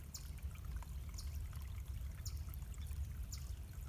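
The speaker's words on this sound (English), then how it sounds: "the trickling of the spring-fed stream" A spring-fed stream trickles through a woodland garden among Japanese primroses, a soft continuous burble of running water with small splashes, faint and steady with no talk.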